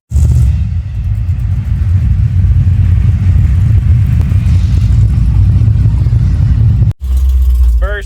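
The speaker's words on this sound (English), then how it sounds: "Now it is finally time for us to test drive the truck after we rebuilt the engine" A rebuilt Chevrolet C10 pickup out on its first test drive, engine rumbling loud and steady with low growl under acceleration, cutting off briefly near the end before resuming.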